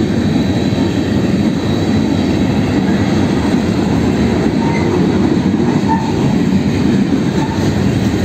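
A BNSF freight train rolls past close by, a continuous loud rumble of wheels on rails with faint squeals and clatter, steady throughout and no voices.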